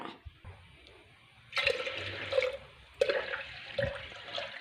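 Herbal leaf juice, strained from medicinal leaves with no water added, is poured into a pressure cooker for Karkidakam medicinal rice porridge, heard as two close splashing pours that start abruptly and trickle off.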